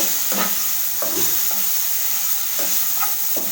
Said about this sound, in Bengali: এইভাবে মশলা দিয়ে নাড়াচাড়ি করব